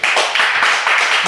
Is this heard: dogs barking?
no